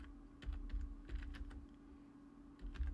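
Keys clatter on a computer keyboard in quick, irregular bursts with a short pause midway, close and quiet with no talk.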